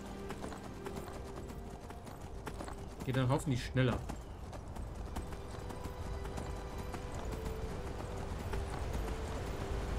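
Hooves of a donkey mount clip-clop steadily in the video game Enderal. The footfalls run through the whole stretch under someone speaking German, with a brief louder vocal burst near the middle.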